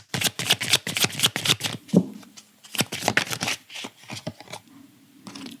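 Tarot cards being shuffled and drawn, a run of quick crisp riffling bursts followed by a pause, a single card snap, then more shuffling and a softer slide, close and clear with no talking.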